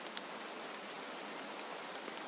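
Heavy rain pours down in a jungle, a faint, steady hiss of dense rainfall with no voices, continuous and even throughout.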